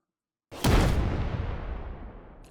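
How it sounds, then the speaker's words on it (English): A video game explosion bursts suddenly after silence, a deep loud boom that rolls into a long fading rumble and echo. "The explosion was so strong that its echo could be heard in Guilio's reality."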